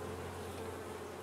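Honey bees swarm and buzz at a hive entrance where guards grapple with incoming bees, a steady dense drone with a low hum, close and continuous throughout.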